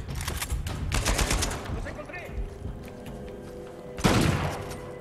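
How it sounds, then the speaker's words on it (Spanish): Overlapping gunfire in Uncharted 4 erupts from two sides, a burst of rapid shots opening the scene, scattered pops following, then a heavy loud volley near the end, with a player's voice talking over the gameplay. "me disparan de dos lados"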